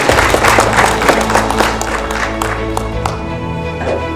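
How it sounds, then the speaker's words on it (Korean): An audience at a Korean award ceremony honouring donors claps and cheers in a dense, lively round of applause that tapers slightly toward the end. "여러분 큰 박수로 축하드리시기 바랍니다"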